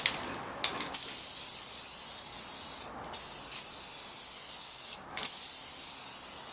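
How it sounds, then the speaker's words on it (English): Aerosol etching primer sprayed onto a chrome Toyota Tundra grill surround, a steady hissing spray broken by brief pauses, close and fairly quiet. "so we're going to hit it with coat number 3"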